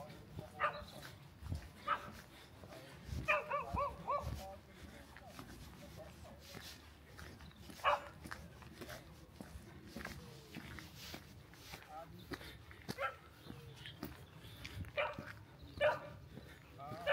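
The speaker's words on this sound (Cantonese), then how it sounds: "聽到啲狗吠聲呢" Dogs bark in the Swiss countryside on a rainy spring morning, several short, sharp barks scattered at a moderate distance, with footsteps and quiet talking between them.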